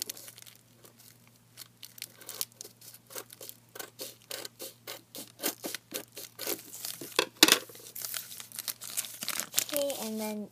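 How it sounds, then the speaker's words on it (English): Scissors snip across the top of an empty foil chip bag being made into a coin pouch, giving a close series of sharp crinkly cuts and rustles that grow denser and louder toward the end. "Then I'm going to cut the top."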